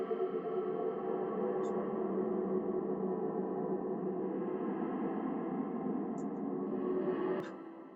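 An atmospheric, washed-out rework of a drum and bass lead sound processed through the Infiltrator effect by DBS Machines. It forms a dense, steady sustained pad that swells evenly for several seconds, with faint high glints, then drops away at the end.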